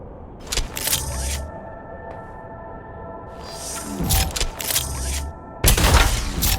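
Energy gun bursts in the sci-fi game ECHO: several loud, bright blasts come in clusters with short pauses between them, over a steady electronic hum, and the final blast is the heaviest.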